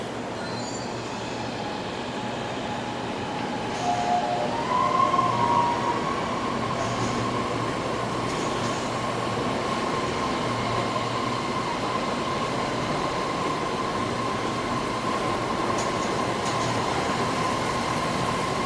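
A Kuala Lumpur MRT metro train runs steadily, with a sustained wheel or motor whine rising and then holding over a continuous low rumble, fairly loud and with no talking.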